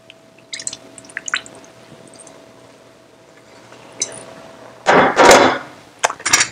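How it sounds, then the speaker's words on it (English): Meat stock poured over rice in a cooking pot for lamb Kabuli pulao: a loud, splashing liquid pour of about a second, followed by a couple of short wet drips and knocks, close up. "now I'm going to add the stock from the meat all over the rice."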